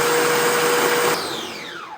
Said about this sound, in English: That's what makes this the best blender in the world.